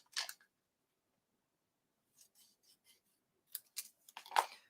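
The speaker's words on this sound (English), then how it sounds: "So I'm going to take my scissors." Scissors cutting a piece of card in half while making a Christmas shaker card: a quiet opening snip, a pause, then a few soft clicks and a quick run of close crisp snips, with no talk.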